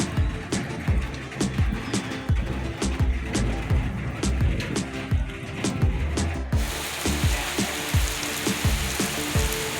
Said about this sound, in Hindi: बड़ी मूसलाधार बारिश आ रही है